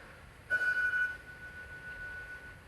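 A telephone rings once in a room, a single steady electronic tone lasting about half a second, fairly clear over a quiet background.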